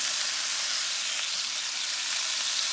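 Marinade basted onto pork belly char siu on a grill, a steady broadband sizzle and hiss close by that holds even throughout, with no voices.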